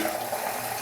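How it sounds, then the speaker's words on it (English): Water drips being added to shaving lather, a soft continuous wet, splashy wash of sound heard close and steady for under a second, with no talking. "A couple drips of water. It'll wake that lather right up."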